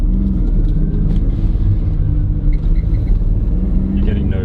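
A Suzuki Cappuccino car engine runs at a steady, loud idle rumble that stays close and constant, with people talking over it.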